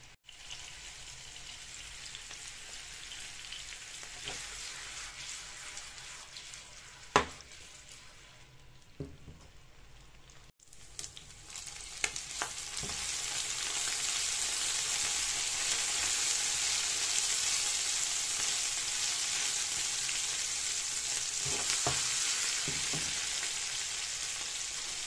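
Meatballs fry in a shaken pan with a steady, broad sizzle, broken by a few sharp clatters of the pan being shaken. The sizzle drops briefly, then returns louder and denser, holding close and constant to the end.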